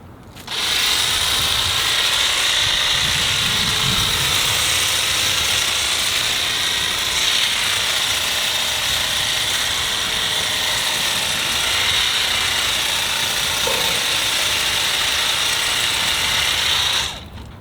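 A Milwaukee M18 Quik-Lok articulating hedge trimmer cuts along the top of a hedge, a steady high-pitched motor whine with reciprocating blade chatter running continuously and close, without talk.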